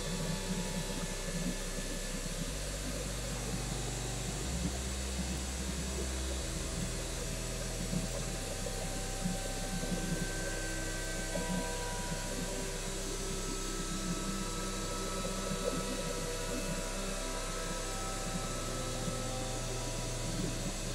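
Steady blowing air, like a hair dryer, pushed across wet acrylic pour paint on a canvas, a continuous loud whoosh running without pause and with no talking.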